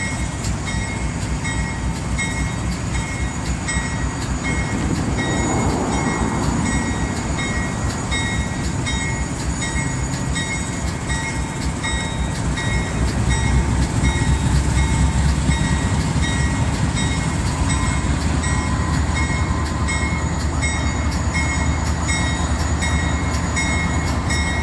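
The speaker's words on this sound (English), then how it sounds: "Norfolk Southern train 28T depart Columbia, South Carolina, eastbound to Charleston" A Norfolk Southern freight train, 28T, departs Andrews Yard in Columbia, South Carolina, heading eastbound toward Charleston. A loud, steady rumble of rolling cars and engine fills the whole stretch, with no voices.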